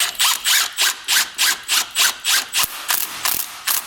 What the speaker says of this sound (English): let's go ahead and thread in the bolt here, and this will just tighten it down for us